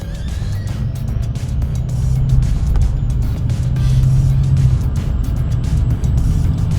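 A Ford Maverick Hybrid drives in electric mode at about 22 to 25 mph, heard from inside the cabin as a steady low road and tyre rumble without engine noise.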